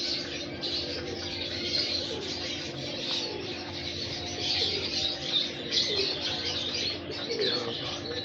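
Heera Lal breeder pigeons cooing and chirping steadily, with faint wing flutters, over a dense background of many other birds calling at once; no voices are heard.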